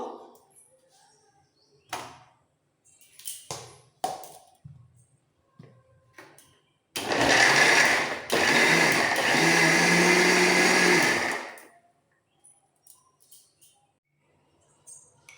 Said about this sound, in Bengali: এবার একটু ঘুরিয়ে নেব